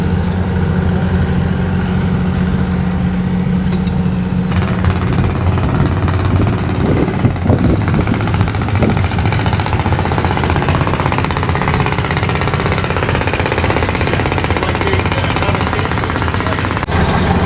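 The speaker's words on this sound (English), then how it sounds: "Farm all M with a road grader attachment" A Farmall M tractor fitted with a road grader attachment runs at a tractor show, its engine chugging in a steady low rumble that stays loud and near, with a rattling, hammering texture.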